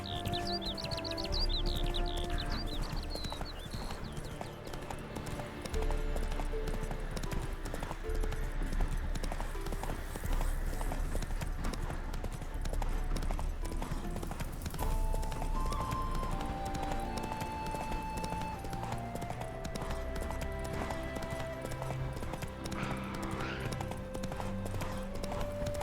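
Roach, Geralt's horse in The Witcher 3 video game, clip-clopping at a steady trot for a long stretch, the hoofbeats mixed under background game music with faint bird chirps.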